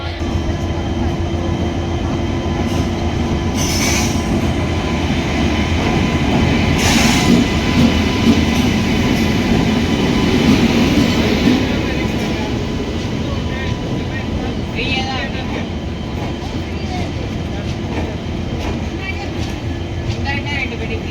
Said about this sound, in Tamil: ஃபைனலாக நம்ம ட்ரெயின் திண்டுக்கல் ஜங்ஷன் ரீச் ஆகிடுச்சு.